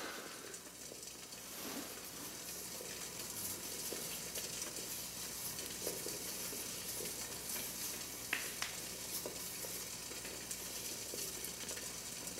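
A soft, steady hiss of four cups of water kept boiling over the small flame of a stainless steel alcohol stove, faint and continuous with a few tiny pops and clicks.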